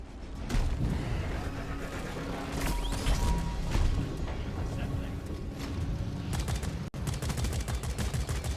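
Gunfire in the video game Deep Rock Galactic, dense bursts of rapid shots and crashing impacts layered over game noise for the whole stretch, loud and continuous, with voices talking over the combat.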